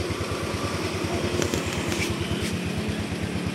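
A Yamaha Mio scooter's small engine runs with a rapid, even putter close by, steady throughout, with a few brief clicks and rattles over it.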